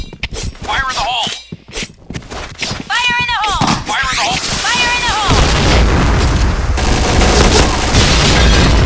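A grenade goes off in a shooter video game, a loud booming blast that rolls into sustained rumbling and gunfire after several shouted voices, close and dominant.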